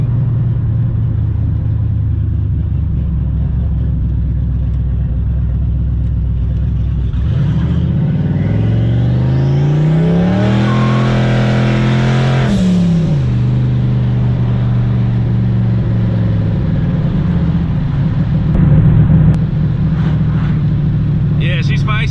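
Engine of a Ford SN95 Mustang revving hard from about seven seconds in, climbing in pitch to a peak and easing back down, then settling into a loud idle rumble with a small blip near the end.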